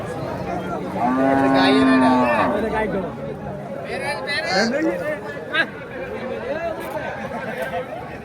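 A cow gives a long, loud moo close by at a crowded cattle market, followed by shorter lowing calls, while people chatter and talk all around.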